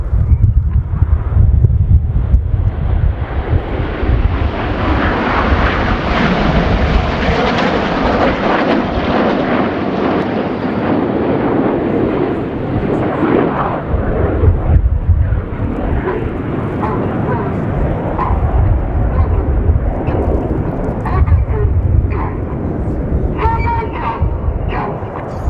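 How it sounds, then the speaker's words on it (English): Red Arrows jets of the Royal Air Force roar past during a flying display at RIAT, trailing smoke; a loud, continuous broadband rush swells and fades with heavy wind buffeting and a commentator talking over it. "Red 8 and 9 rolling around the smoke of the other aircraft"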